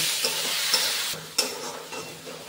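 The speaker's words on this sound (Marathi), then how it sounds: "टमाटो लाल होईल तर परतून घेऊया" Onions and tomatoes sautéing in a pan for a large batch of potato and brinjal mixed vegetable, a steady close sizzle broken by a few sharp spoon scrapes and stirring knocks.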